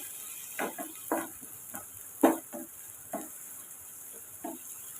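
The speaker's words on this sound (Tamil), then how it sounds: "சேர்த்து விட்டுட்டு இப்போ வதக்கி விட்டுக்கலாம்" Onion, green chilli and curry leaves sauté in a pan, a soft steady sizzle broken by several distinct stirring scrapes spaced through the few seconds, fairly quiet and close.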